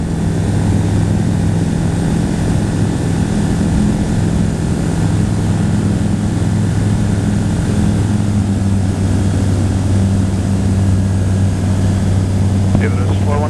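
A propeller aircraft climbing out on takeoff from Bergen, its steady low engine drone and hum loud and continuous throughout, with faint radio chatter beneath.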